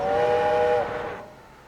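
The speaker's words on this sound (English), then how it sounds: "Or is that just the work whistle?" A steam-style train work whistle in the city-building game Tropico 6 sounds one steady, bright, harmonic blast of under a second, then cuts off, leaving a fading ambient hum.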